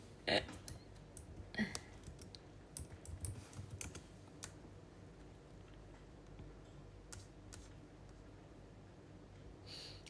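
Keyboard typing during a home livestream chat, a few quick bursts of key clicks early on over low room noise, then sparse taps fading into quiet.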